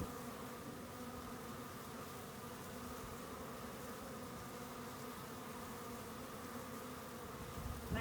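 A dense, steady buzz of a package of honey bees swarming close by during installation into a rooftop hive, continuous and unbroken with no voices.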